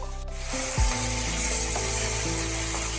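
Sliced onions, three medium ones cut lengthwise, frying in hot oil in a kadai, giving a steady, close, fairly loud sizzle with a few scraping stirs, no voices.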